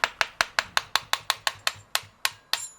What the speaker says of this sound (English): give it a small tap with a hammer